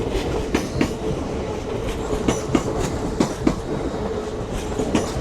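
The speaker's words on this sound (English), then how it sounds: "Arriving in now is your 1349 LNER Azuma service from London King's Cross through to Leeds" LNER Azuma train pulling into Doncaster station on the East Coast Main Line, a continuous rumbling roar with regular clickety-clack wheel beats over rail joints, steady and close.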